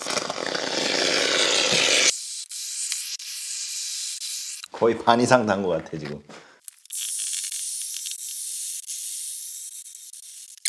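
Polyurethane spray foam shot from a can around a window frame during installation: loud continuous hissing spray in bursts, with a brief stretch of talking in between.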